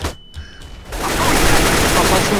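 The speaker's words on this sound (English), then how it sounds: "I'm throwing a flashbang." A flashbang grenade goes off in CS:GO: a short quiet stretch, then a sudden loud burst that swells into a sustained, harsh broadband roar filling the rest of the moment.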